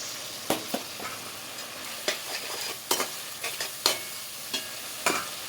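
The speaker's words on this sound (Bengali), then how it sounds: "সেই সসটা দিয়ে দেবো দিয়ে খুব ভালো করে মিশিয়ে নেব" A spoon stirs sauce into restaurant-style chilli chicken in a pan, making irregular scraping strokes and knocks over a continuous sizzle, with no talking.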